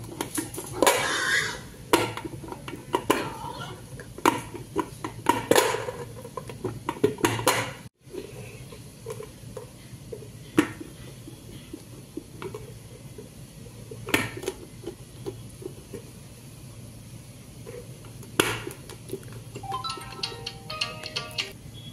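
Knife cutting slabs of crunchy peanut chikki, a home-made jaggery brittle, into pieces: repeated sharp taps and clacks against a hard surface at irregular intervals, close and moderately loud, with faint clinks in between.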